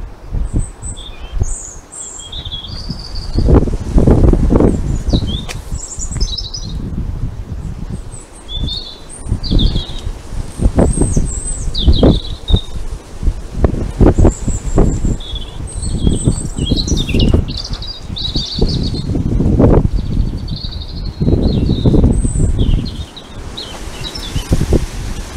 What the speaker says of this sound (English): Thought you might enjoy a little bit of bird song.